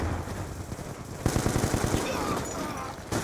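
Rapid automatic gunfire in an older Call of Duty game, a dense burst of sharp repeated shots that starts abruptly partway through and continues loud and close over a game background.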